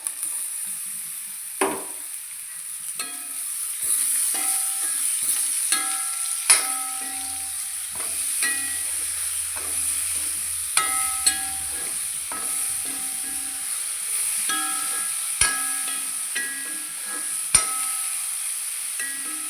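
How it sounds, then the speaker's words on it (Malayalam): Sliced onion and green chilli frying in a pan for a Kerala-style bitter gourd curry, a steady soft sizzle broken by repeated scraping stirs and clinks of a spoon against the pan, no voices. "സവാളയും പച്ചമുളകൊക്കെ ഒരുവിധം വാടി വന്നിട്ടുണ്ട്."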